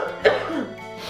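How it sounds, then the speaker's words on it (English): A single sharp cough from dry air, close and loud, followed by a brief throat-clearing rasp. "Dry air. Making me cough."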